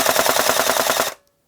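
A VFC MK48 Mod 1 airsoft electric gun running on a 7.4 V lithium polymer battery fires one loud, rapid full-auto burst of about a second, then cuts off abruptly into silence.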